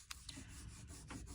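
Close, soft rubbing of a wipe over an engraved surface to loosen paint fill, a steady low scrubbing texture with a few brief brighter swipes across the short stretch.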